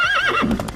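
A horse in a savannah area of the game Hytale gives one loud, close whinny that wavers and then drops into a lower snort.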